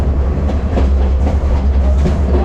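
Ella Odyssey train nearing Pattipola, Sri Lanka's highest railway station: a loud, deep, steady rumble of the moving train with a low hum and light track clatter, no voices.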